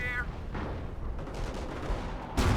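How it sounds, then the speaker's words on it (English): Artillery fire in the Company of Heroes game: a few muffled booms and crackling battle noise rumble under continuous combat sounds, ending with a louder blast, with some voice nearby. "On-field artillery is opening up."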